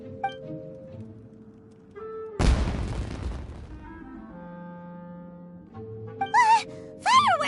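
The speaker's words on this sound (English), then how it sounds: "Was that an explosion? It sounded like fireworks." Fireworks burst in a video game: one sudden loud boom with a crackling, decaying tail amid a soft game score, followed by rising whistling tones near the end.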